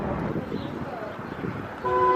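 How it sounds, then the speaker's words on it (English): A car horn toots briefly at the end during a charity rock-a-thon, heard against outdoor traffic and background voices, moderately distant. "he's gonna honk and see if anybody notices"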